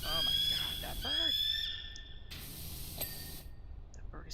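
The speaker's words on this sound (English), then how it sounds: "That bird is so noisy." A bird in PowerWash Simulator gives a run of sharp, rising and falling squawks over the steady hiss of a pressure washer spray. A voice speaks briefly amid the noise.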